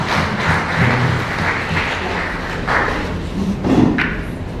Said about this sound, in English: Let's welcome them with a big hand clap.